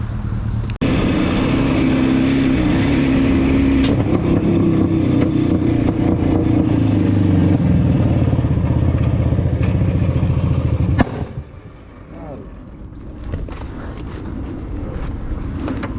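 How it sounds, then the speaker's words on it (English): A motorcycle with a sidecar drones loudly and steadily until a sudden clattering knock as its exhaust baffle falls out, after which the engine noise drops away. "That was my baffle falling out."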